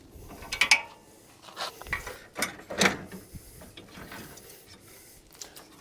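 Wrench and bolt work on an aluminum 1UP bike rack gives short metallic ratcheting clicks and clanks in a few separate bursts, close and fairly quiet, with no talk.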